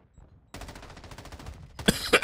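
Automatic gunfire in Call of Duty MW2 on a hardpoint match, a quick run of rapid shots followed by a louder, close burst at the end.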